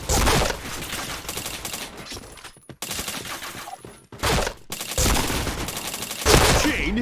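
Rapid gunfire in a video game shooter, repeated bursts of automatic fire separated by short silent gaps, loud and close, with broken chatter at times.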